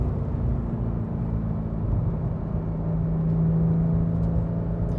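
Porsche 991 GT3 fitted with Dundon Motorsport exhaust and headers cruising on a highway in sixth gear, a steady close engine drone with a low rumble and a tone that rises slightly midway, no talking.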